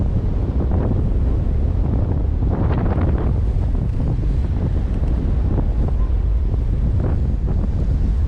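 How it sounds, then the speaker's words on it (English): Steady, loud wind at sea aboard a sailboat off the coast of Brazil roars continuously across the microphone, with wave wash mixed beneath and no talking. "But if this wind holds, as it should for the next 4 hours, it's not going to be a problem."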